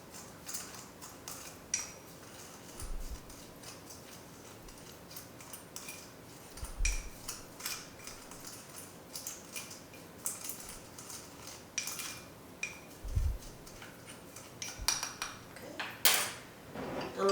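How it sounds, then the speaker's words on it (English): Ranch salad dressing ingredients being mixed in a bowl, with a utensil ticking and clinking against the sides in irregular light taps, faint and close, with no talking. "Now let's mix all of our ingredients."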